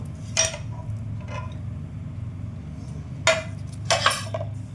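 A pan is handled while a chicken pizza base is placed into it, producing a few sharp metallic clanks and clinks in short bursts against a quiet kitchen background.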